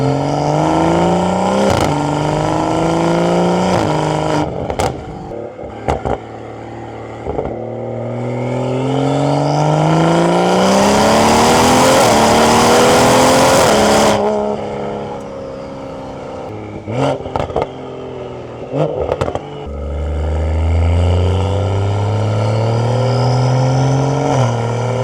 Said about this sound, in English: you're gonna have to settle for some exhaust sounds